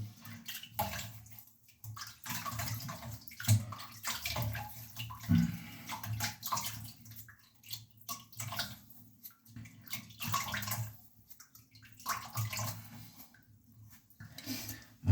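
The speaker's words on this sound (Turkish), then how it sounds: "Evet, yüzümü yıkadım." Running water splashing as a face is washed at a tap, a steady irregular gurgling wash of sound with small splashes throughout, close and fairly quiet.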